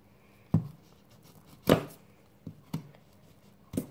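Knife chopping onions on a board with a few separate sharp chops, each a distinct thud-and-snap. They come at irregular intervals with quiet pauses between them and are heard close up with no talking.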